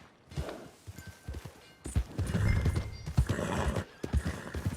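Horse hooves clip-clopping in the open-world western game Red Dead Redemption 2, a steady walking rhythm of close hoofbeats with snorts and a brief whinny mixed in, no talk over it.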